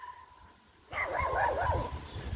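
A small dog barks in a quick burst of sharp yapping close by during a summer walk outdoors, following a quiet moment.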